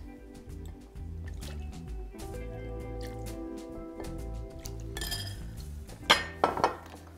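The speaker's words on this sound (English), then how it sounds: "now I'm gonna add some orange liqueur" Cointreau orange liqueur poured into a crêpe suzette mixture in a kitchen, a soft liquid trickle with faint glassy clinks, then a few louder clinks of the bottle or glass near the end.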